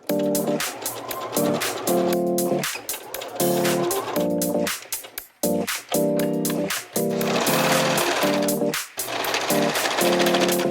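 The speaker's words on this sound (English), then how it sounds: "we're just going to stitch along this side as well" A sewing machine runs along a fabric seam in rapid bursts of buzzing, mechanical stitching, stopping and restarting several times, loud and close, with faint talk in the background.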